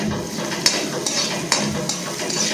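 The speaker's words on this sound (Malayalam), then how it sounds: "ഇഞ്ചിയും വെളുത്തുള്ളിയും അതിൻ്റെ അകത്ത് ഇട്ട് കൊടുത്ത് അതുകൂടെ ഒരു ഗോൾഡൻ കളർ ആവുന്നതിന് വരെ ഒന്ന് മൂപ്പിച്ച് എടുക്കേണ്ടതായിട്ടുണ്ട്" Ginger and garlic frying in hot oil for carrot pickle, a steady close sizzle with a few sharp clinks of a spoon stirring against the pan at irregular intervals.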